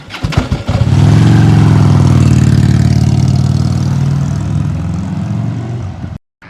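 A motorcycle engine starts with a few sputters, then holds a loud, close, steady rumbling idle that swells and eases slightly before cutting off abruptly near the end.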